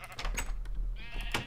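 A cow in the video game Minecraft gives a short, close, bleating moo over a low background hum, with no voices.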